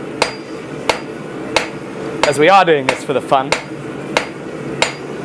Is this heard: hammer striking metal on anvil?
yes